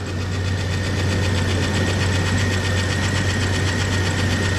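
A Chevrolet S10 engine runs steadily at idle with a fast, even ticking like lifter tap riding over a low drone, loud and close with no talk.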